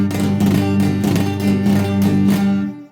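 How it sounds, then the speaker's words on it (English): A guitar is strummed with the pick gripped too tightly, giving a harsh, scratchy tone in steady, evenly spaced strums with ringing chords, close and loud, fading out at the end. "If you're holding it too tightly, it's going to have a terrible sound like this."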